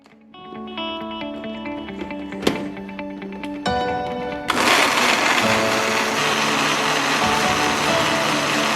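An electric blender grinds boiled chilli and garlic with a little water, a loud steady high-pitched motor whine that shifts into a harsher, fuller roar as the blades catch the ingredients, running continuously up close.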